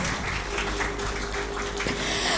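An audience claps at a prize-giving event, producing a dense, continuous patter of many hands at steady volume with no voices over it.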